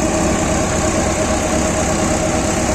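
A tractor drives a modified Shri Ganesh thresher for millet stalks, the engine and machinery running loud and steady at close range with a constant vibrating drone.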